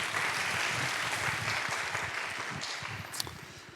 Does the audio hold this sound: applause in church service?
yes